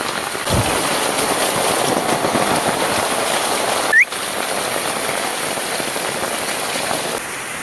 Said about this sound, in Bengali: বাইরের বৃষ্টির অবস্থাটাও দেখায় আপনাদের আচ্ছা বৃষ্টিতে ঘরের পরিবেশ